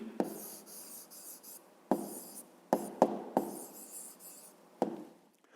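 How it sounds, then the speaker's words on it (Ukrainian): Pen or pencil writing an answer by hand during a fifth-grade maths exercise, heard as close, quiet scratching strokes in several bursts separated by short pauses, with a few sharper taps as the tip lands, no talk. "Пишемо відповідь."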